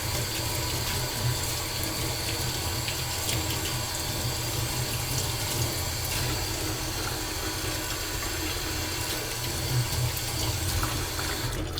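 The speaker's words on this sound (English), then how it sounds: "Y'all probably can't hear me for that water." A tap runs steadily, pouring water in a constant, fairly loud rush with faint clinks in the background.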